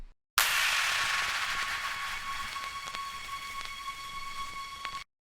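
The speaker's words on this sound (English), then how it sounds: "It's like a sustain string and a vinyl sound." Vinyl crackle layered with a sustained string pad as a background effect in a remix: held tones ring steadily while fine crackle and pops sit over them, starting abruptly and cutting off cleanly at the end.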